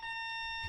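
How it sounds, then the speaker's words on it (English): A door alarm sounds a steady, loud electronic tone held without a break, with a bright, pure pitch and several higher overtones and no talking. "that's what our door alarm said"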